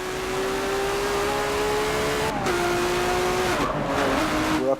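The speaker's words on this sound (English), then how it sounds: "I see that a lot of people use this 2017 Ford GT online, so this is a car I think I'm gonna try in an online lobby" A 2017 Ford GT races in Forza 7, its engine holding a steady loud tone with upshifts and brief tire squeal as it works through the pack, continuous and close throughout.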